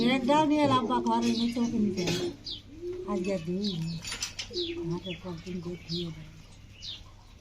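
Pigeons coo softly in the background while a person talks nearby throughout.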